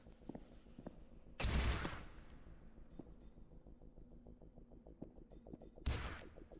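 Gunfire in the video game This Strange Realm of Mine: two loud, broad bursts of shots a few seconds apart, with rapid ticking sounds running between them.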